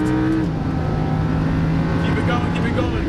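Lamborghini Huracan race car engine at full throttle on a racetrack, a loud, sustained roaring drone with a pitch shift around an upshift, heard from close by under talking.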